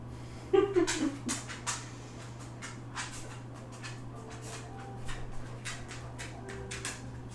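A dog pants quietly and steadily nearby, with a few soft whimpers early on over a constant low hum.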